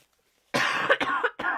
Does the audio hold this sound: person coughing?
yes